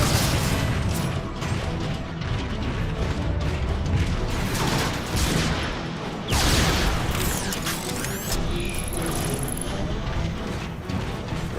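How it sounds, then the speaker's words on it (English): Artillery strike explosions in the Transformers: Fall of Cybertron video game, dense crashing booms and mechanical clatter rolling continuously, loud and close. "Optimus, how about calling in an artillery strike?"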